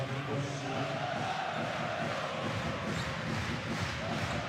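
Basketball arena crowd in a Champions League game between Anwil Wloclawek and Rasta Vechta, a continuous loud roar of cheering and chanting filling the hall without letting up, spread wide and steady throughout.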